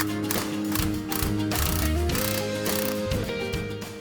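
Ratchet snugging an MBRP Black Series cat-back exhaust clamp on a 2018-2023 Ford Mustang, a steady run of close clicking pawl strokes with a metallic, slightly ringing texture, alone with no talking.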